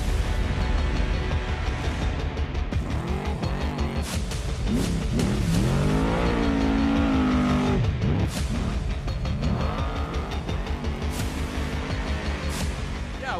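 Two-wheel-drive trophy truck racing in the Baja 500 desert race, loud engine roaring and revving in rising and falling surges as it passes close by.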